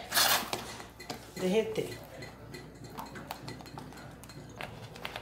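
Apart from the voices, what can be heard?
stirring homemade mozzarella cheese in a pot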